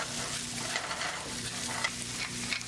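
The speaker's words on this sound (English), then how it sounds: "throw in your mushrooms. Give it a quick mix." Beef and mushrooms sizzle in a hot frying pan while being stirred, a loud continuous sizzle with scraping spoon strokes close by.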